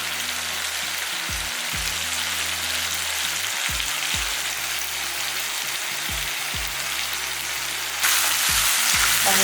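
Onions and tomatoes sauté in a pan for a curry leaf, coriander and mint thokku, giving a dense continuous sizzle close by, with a low intermittent hum underneath and the frying growing slightly louder near the end.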